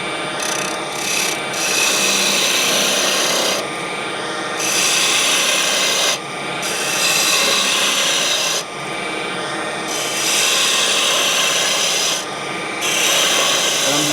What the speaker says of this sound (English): I'm just going to remove some of the bulk material with my bowl gouge.